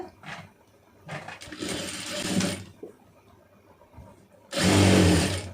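A sewing machine stitches a folded saree hem in short bursts, ending in one louder, steadier run; close by, with no talking.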